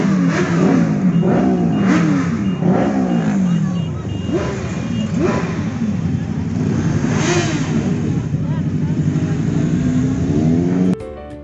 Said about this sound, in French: le gang des Pères Noël a débarqué en moto